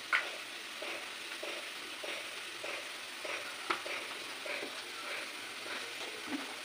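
Chicken chap stirred in a pan with chili powder, a steady low sizzle running throughout with repeated scraping strokes of a utensil at a slow, even rhythm.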